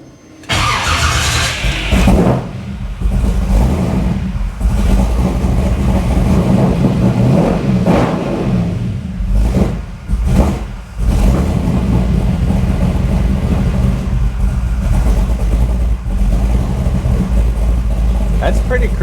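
An engine fitted with an Edelbrock VRS 4150 carburetor runs loudly close by, sputtering and surging as it fights to hold idle, with people talking over it.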